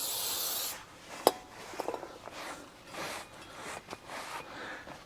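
A brake disc rotor on a Holden Commodore being wiped and cleaned, with a short spray burst at the start followed by soft, intermittent rubbing and scrubbing strokes, close and quiet.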